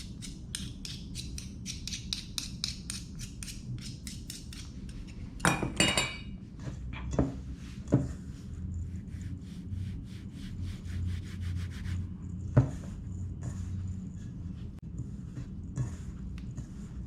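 Hands knead and scrub dry, low-hydration ramen dough, producing quiet repeated rasping and rubbing strokes in a steady rhythm, broken by a few sharper thuds and scrapes, close and fairly soft.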